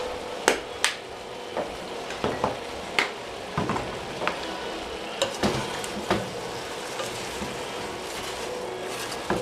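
Vegetables for minestrone cook in a pot with onion powder and garlic, a steady soft sizzle running underneath while a spoon knocks and scrapes against the pot in irregular close taps.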